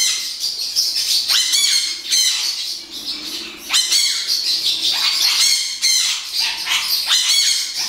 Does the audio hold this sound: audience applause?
no